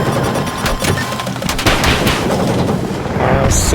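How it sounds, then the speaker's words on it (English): Gunfire in the video game Battlefield 6 during a Conquest match on Mirak Valley, with the player flying a helicopter; a loud, continuous wash of shots and blasts fills the whole stretch with no talk. "Who's shooting at me?"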